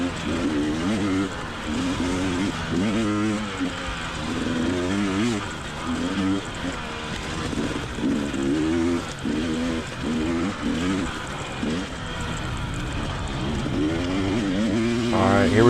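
Dirt bike engines on a hilly, technical motocross track, the rider's own bike loud and close with revs rising and falling, another bike following just behind; a voice talks over it.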